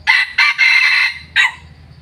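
A Thai crossbred jungle rooster crows loudly and close by in several strong bursts, with a brief pause before a final short call. Low background rumble underneath.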